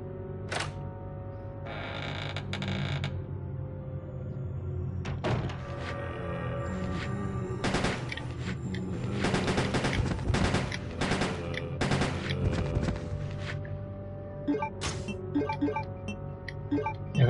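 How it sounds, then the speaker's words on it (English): Rapid bursts of gunfire in Resident Evil Code: Veronica X, a string of sharp close shots clustered in rapid runs, with gaps of quieter game ambience between them. "that gun is going to make us go through bullets like crazy"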